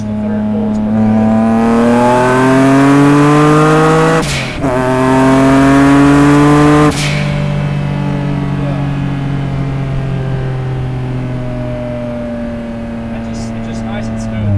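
A 600HP single-turbo Nissan 350z accelerates hard during a pull, its loud engine note climbing steadily in pitch, with two sharp breaks for gear shifts before it settles into a sustained high-rpm drone.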